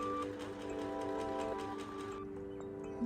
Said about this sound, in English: I'm just sewing straight through